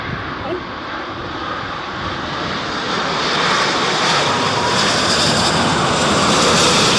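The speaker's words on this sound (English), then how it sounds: "Cathay Pacific 5th in line to land." A Cathay Pacific airliner lands at Heathrow in a storm, its engine roar steady and broadband with wind noise, swelling gradually louder as it nears over seven seconds.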